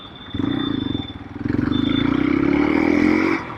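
A modified Hero Xpulse 200 motorcycle takes a U-turn, its engine note rising and holding in a steady, close rumble with light clatter before easing off at the end.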